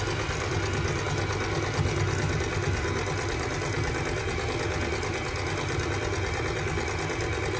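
A sewing machine stitches near the zigzag-stitched edges of a cosplay costume, giving a steady, fast mechanical whir and rattle that runs unbroken at close range.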